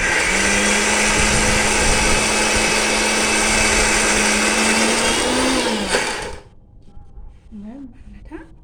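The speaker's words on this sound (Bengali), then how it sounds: "মিক্সি চালাচ্ছে" A mixer grinder blending ingredients with a little water gives a loud, steady whirring roar for about six seconds, then cuts off abruptly, and a voice speaks over the quiet that follows.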